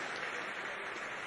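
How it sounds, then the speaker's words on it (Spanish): A hall audience at a poetry book festival applauds Venezuelan poets, a steady dense wash of clapping from many hands, heard briefly and at moderate distance. "Pido un aplauso para todos los poetas venezolanos que son ejemplos."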